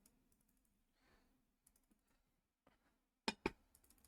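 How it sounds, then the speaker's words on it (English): Quiet, scattered keystrokes on a computer keyboard in irregular short runs, with a couple of sharper, louder clicks close together near the end. "if I type in chart of largest wallet addresses"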